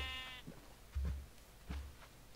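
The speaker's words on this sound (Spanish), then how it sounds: "aquí hay una oveja" A single sheep gives one short, faint bleat at the start, followed by a few soft, muffled thumps in otherwise quiet surroundings, with no talking.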